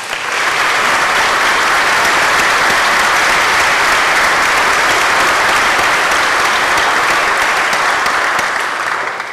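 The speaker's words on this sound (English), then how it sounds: "Let's give them a round of applause." Dense, sustained applause from a large audience fills the New York State Senate chamber, steady and loud throughout without a break.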